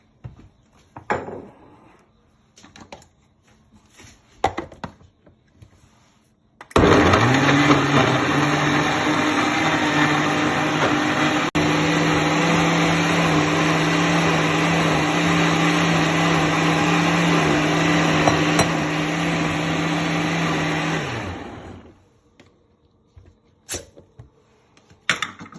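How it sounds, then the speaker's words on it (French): A kitchen blender grinding grapes and fruit for a bissap cocktail starts abruptly and holds a loud, steady motor whine with a slight pitch shift for about fifteen seconds before cutting off, with faint handling clatter before and after. "Je vais mixer avec ça."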